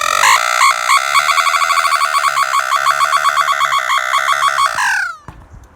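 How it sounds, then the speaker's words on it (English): A loud electronic siren, powered by a bicycle dynamo, warbles in rapid, rising pulses for about five seconds, then winds down and cuts off. "So check it out. The Siren."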